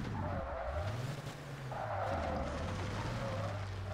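A super truck in ToCA Race Driver 2 brakes hard on a racing circuit, its tires squealing and skidding in wavering tones over a loud, steady engine drone.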